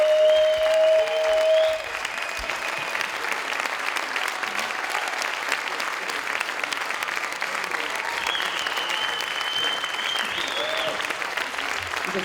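A crowd claps loudly and continuously after a talk at the Journée de l'audace event in Geneva, with applause sustained throughout and a brief whistle-like tone at the start.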